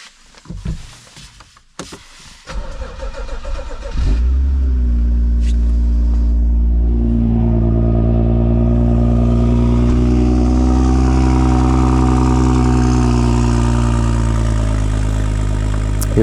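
A BMW 435i fires up in a cold start on a snowy day: a few seconds of faint clicks and shuffling, then the engine catches with a loud burst and settles into a steady, rich idle rumble close by, with no talk.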